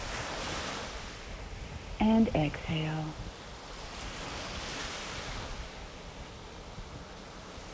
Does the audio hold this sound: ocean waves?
yes